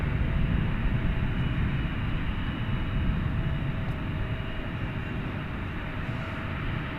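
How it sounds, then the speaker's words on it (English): Steady broadband roar of aircraft engines at Dallas Fort Worth International Airport at night, a continuous low rumble from planes queued for takeoff, fairly distant and unbroken, with no talking. "We're starting to get another build-up of aircraft that are itching to take off"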